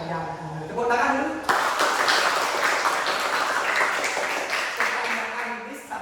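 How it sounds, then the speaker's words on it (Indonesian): An audience at a dance workshop bursts into sustained clapping that fills most of the clip, with a voice speaking just before it starts. "Tepuk tangan dulu."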